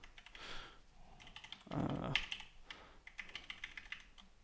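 A computer keyboard clatters with quick irregular keystrokes, close and fairly quiet, one heavier burst of clicks in the middle.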